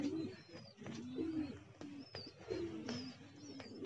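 Pigeons kept for flying coo softly and repeatedly nearby, low throaty calls recurring through the whole stretch, with a few higher chirps above them.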